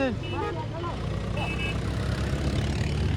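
Tractor engine rumbling at a steady low idle close by on a rural road, with someone talking over it at the start and the engine drone carrying on alone afterward.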